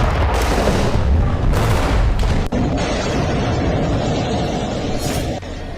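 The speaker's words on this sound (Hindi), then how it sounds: "लेबनान की राजधानी बेरूत के दाहिया इलाके में एक बड़ा धमाका हुआ।" A large blast in the Dahiya area of Beirut, Lebanon: a loud, dense roar of rumbling and crackling debris fills the whole span, with a sharp break near the middle and no speech.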